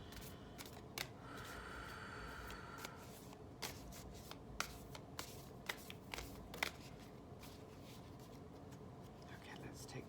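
A deck of cards is shuffled close up in quick crisp riffling bursts and soft flicks, with quiet whispering alongside.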